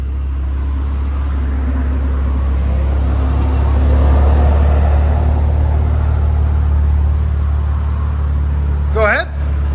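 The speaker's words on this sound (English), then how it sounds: "you can hear the blowout valve" Infiniti Q60 with a 3.0L twin-turbo V6 and an upgraded exhaust: a loud, steady low exhaust rumble, then a quick rising-and-falling blow-off valve whoosh near the end.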